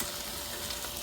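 Lamb sizzles on a Ninja Foodi Grill with the lid open, a dense steady crackling hiss of frying fat heard up close for about a second, no talk.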